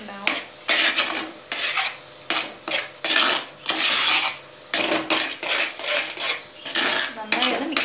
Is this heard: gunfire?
no